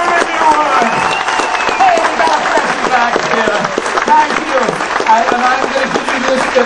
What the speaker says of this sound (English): would you give a fantastic round of applause to these beautiful young ladies who helped me with this effect?